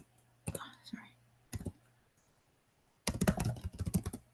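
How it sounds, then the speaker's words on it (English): Someone types an email address on a computer keyboard, giving short bursts of quick clicking keystrokes separated by pauses, with a final denser run of taps, close and fairly clear. "you type in your email"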